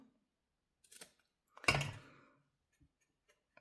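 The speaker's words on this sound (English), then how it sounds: "I think we are going to take our scissors" Scissors make a few quick snips through paper near the microphone, then one louder, crisp cutting burst that fades out, with a couple of faint clicks afterward.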